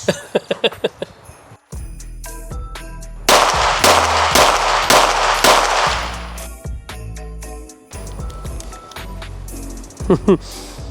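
Gunshots at a shooting range, loud sharp cracks fired singly and in rapid bursts with clicking mechanical handling between them, plus a brief voice near the end.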